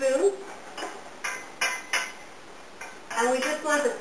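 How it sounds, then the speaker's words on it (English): Onions cooking in a pan are stirred with a wooden spoon, making bursts of scraping and knocking clatter with brief pauses and a sizzle underneath, while a voice talks. "give it a stir with a wooden spoon"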